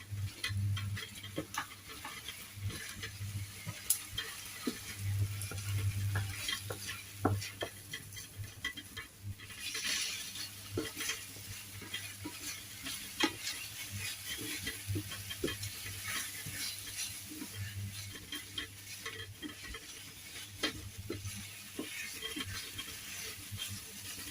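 Chicken adobo being stirred in a pan, steady soft scraping and gentle sizzling continuing throughout with small ticking clinks of the utensil against the pan.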